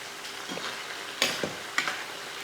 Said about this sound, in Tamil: எண்ணெய் நல்லா காய விட்டு அதுக்கப்புறம் வெங்காயத்தை போடணும் நல்லா கோல்டன் கலர் வர வரைக்கும் வறுத்து எடுத்துக்கலாம்